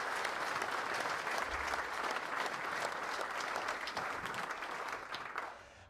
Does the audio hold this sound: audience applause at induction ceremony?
yes